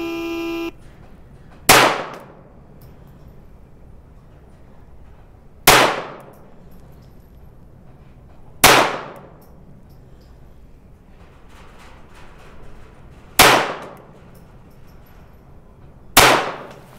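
Rifle shots on an outdoor firing range during timed rapid fire, from a rifle with a recently replaced barrel. Five sharp, loud single cracks come a few seconds apart, each ringing out briefly over quiet background.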